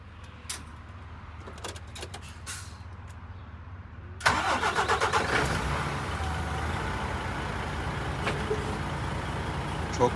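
A truck's diesel engine cold-starts on a chilly morning in Hungary: after a few quiet seconds the engine cranks and catches abruptly, then settles into a loud, steady rumbling idle close by.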